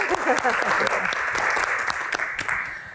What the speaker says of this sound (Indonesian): Tepuk tangan lebih meriah lagi dong.